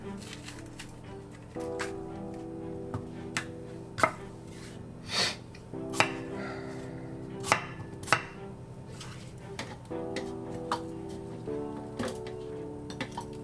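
Knife chopping red peppers on a cutting board in a home kitchen, several sharp, separate thunks at uneven intervals over soft background music.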